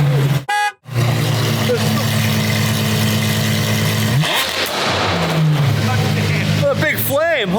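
A Porsche Carrera GT fitted with a GMG World Challenge Sport Exhaust fires up from cold, its loud, steady idle drone running almost throughout, with a brief cutout early on, some pitch changes, and people talking over it.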